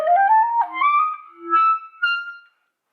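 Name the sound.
clarinet with plastic reed playing high notes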